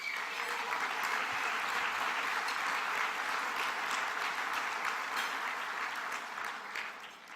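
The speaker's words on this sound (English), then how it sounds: "So again, a round of applause for Bruce." Sustained applause from a gala audience honoring Bruce, a dense wash of many hands clapping continuously, loud and steady before tapering slightly at the end.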